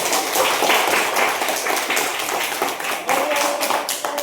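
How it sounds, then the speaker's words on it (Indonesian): A burst of clapping and applause from a small group, steady and fairly loud throughout, with no one speaking over it. "Mari kita tepuk tangan untuk kelompok 2"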